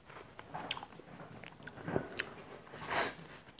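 Someone bites into and chews a dinosaur egg bread stuffed sandwich-style with egg yolk filling, giving a few soft crunches and close, moist chewing sounds across a few seconds, fairly quiet and without talk.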